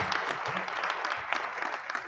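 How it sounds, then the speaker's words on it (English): An audience applauds steadily for a speaker about to take the stage, a dense, even wash of clapping from many hands with no break. "So a big round of applause for Julie."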